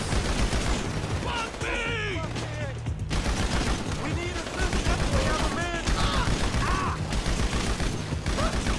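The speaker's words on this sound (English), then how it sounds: "I got a minigun, bro." Sustained, dense roar of minigun fire in Grand Theft Auto V, continuous rapid bursts with mechanical whirring and scattered impacts, while a voice talks over the shooting throughout.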